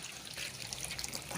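Bathwater spills over during a child's bath: a steady, close wash of running and splashing water fills the room with a bright, hissing trickle and no voices.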